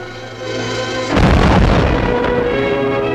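Naval guns fire on command aboard warships, a single loud booming blast that erupts after a quieter stretch and rumbles on as it decays.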